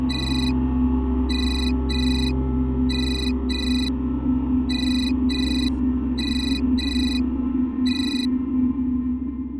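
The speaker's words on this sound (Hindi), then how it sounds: "फोन आ रहा है" A telephone ringtone plays an incoming-call pattern of short electronic bursts, in pairs and singles, repeating steadily over a continuous low musical drone with no talking.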